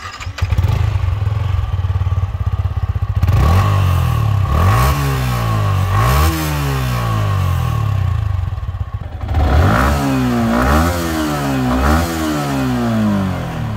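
A Yamaha YZF-R15 V3 sport motorcycle fires up, then its engine is revved hard several times, each rising whine falling back to a rumbling idle, loud and close.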